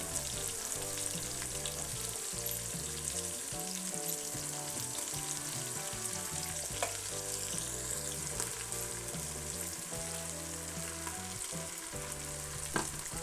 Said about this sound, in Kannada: ಎರಡು ಸ್ಪೂನು ಶುಂಠಿ ಬೆಳ್ಳುಳ್ಳಿ ಪೇಸ್ಟ್ ಹಾಕಿಕೊಂಡು ಚೆನ್ನಾಗಿ ಫ್ರೈ ಮಾಡಿಕೊಳ್ಳಬೇಕು